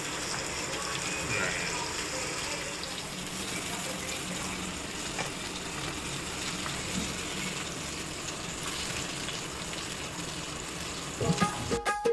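Whole pomfret fish with turmeric frying in a pan, a steady dense sizzle that holds at an even level throughout, close up, with a few clattering knocks near the end.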